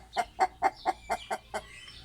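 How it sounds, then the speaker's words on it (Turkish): Chickens in a neighbour's coop cluck in a steady run of about seven evenly spaced, fairly close calls, each a short sharp note, tapering slightly toward the end. "Komşunun tavuk kümesiyle yaptım bugün açılışı."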